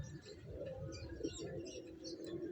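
A racing pigeon cooing softly during a rainy race arrival in Umingan, Pangasinan, low murmuring coos under a faint, steady background hiss.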